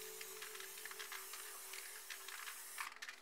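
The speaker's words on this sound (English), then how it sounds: "Now grab the black, spray at the back" Black spray paint hissing from an aerosol can during spray paint art, a faint, steady airy hiss in short bursts over a quiet background with a low hum.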